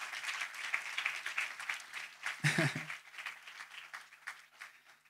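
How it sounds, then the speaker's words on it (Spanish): A church congregation at an evening sermon clapping in praise, brisk rhythmic applause throughout with a voice speaking over it and a brief low thump midway. "Dale un aplauso al Señor para que no se duerma nadie en esta noche."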